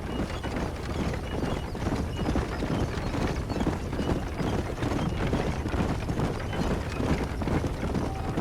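Horses gallop in the Red Dead Redemption video game, a steady, dense clatter of hooves running continuously and fairly close, with faint voices now and then under the rhythm.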